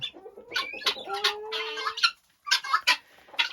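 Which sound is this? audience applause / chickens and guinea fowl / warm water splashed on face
chickens and guinea fowl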